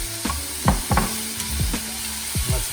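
Summer squash stir-fries with chili oil in a hot pan, giving a continuous sizzle broken by quick scraping and tossing strokes from the utensil at an uneven rhythm; no talking.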